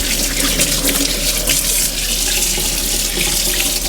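Hands are rinsed under a running kitchen tap, a steady, loud, close gush of water splashing into the sink, unbroken throughout.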